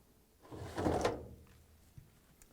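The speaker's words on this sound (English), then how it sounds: "remove the Lint screen" A lint screen slid out of a Whirlpool dryer, giving one soft scraping pull that swells and fades over about a second, close and fairly quiet, then a faint click.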